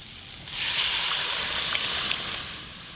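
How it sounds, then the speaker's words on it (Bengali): Hot tempering poured into a pot of dal cooked with sour fruit bursts into a steady, bright hiss that swells after a short quiet start, sizzles evenly for about two seconds, then eases off. "এবার ডালটা ছকে দেব"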